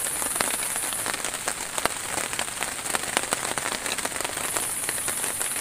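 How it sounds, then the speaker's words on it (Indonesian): Rain pours steadily onto a tent at a riverside fishing camp. The patter is dense and continuous, with scattered sharper drops hitting the fabric nearby, and no voices. "Diguyur hujan"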